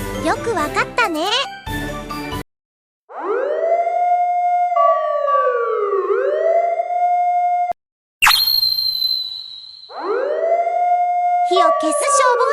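A fire engine siren wails in rising and falling sweeps, loud and close, broken by short gaps and a steady high tone, with bright jingling music before it and at the very end.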